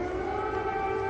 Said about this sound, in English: air raid sirens ringing out